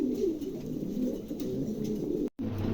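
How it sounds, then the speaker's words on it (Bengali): A pair of pigeons coo with low, continuous warbling that runs almost unbroken for under three seconds, with a brief dropout near the end. "চমৎকার একজোড়া কবুতর"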